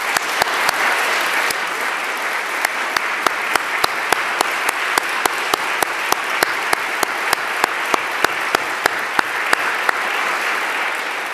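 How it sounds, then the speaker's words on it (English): An audience at a State of the City address in Saint Paul claps, a sustained, even round of applause from a large crowd, steady throughout with scattered sharper individual claps standing out. "I want to applaud them and others for their efforts."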